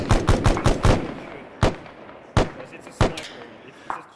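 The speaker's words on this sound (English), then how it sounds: "We're getting shots from east. Alright, let's take it. It's a sniper." Sniper gunfire in the military video game Arma: a quick burst of sharp shots at the start, then single loud cracks spaced about a second apart, close and punchy.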